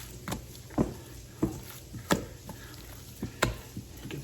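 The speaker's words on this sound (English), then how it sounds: "We're just going to go in here and mix it like you're kneading bread." Ground pork burger mixture with onion and garlic being kneaded by hand, giving soft, wet squishing and slapping pulses every half second or so, close up and fairly quiet with no talking.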